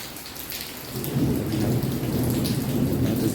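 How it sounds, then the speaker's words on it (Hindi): Heavy rain pours steadily outdoors while a deep rumble of thunder swells in partway through and keeps rolling beneath the dense hiss of falling water, with no voices. "बारिश तो माशाल्लाह बहुत तेज़ हो रही है"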